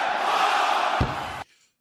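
A large arena crowd cheers and roars at a WWE wrestling event, a loud sustained wash of voices that swells, then is cut off abruptly near the end into near silence.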